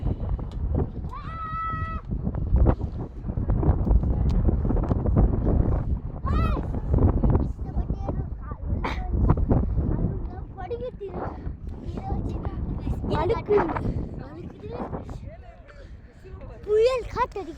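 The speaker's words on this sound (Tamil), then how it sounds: "புயல் காத்து அடிக்கிறது" Strong stormy wind buffets an outdoor spot beside a tall structure, a loud, continuous low roar with gusts throughout, while people talk and animals bleat briefly now and then.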